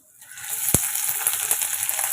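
Steady broadband sizzle of chopped onions hitting hot oil with dal, rising quickly and holding, with a few sharp pops and crackles.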